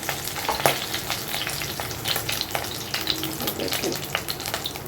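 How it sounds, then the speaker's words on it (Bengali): Pieces of katla fish frying in hot oil in a Bengali kitchen, a steady close sizzle with scattered crackles and spits, no talking. "এটা একেবারেই ভাজা হয়ে গেছে, কাজে এটা ভাজা মাছ হিসাবেই খাওয়া হবে।"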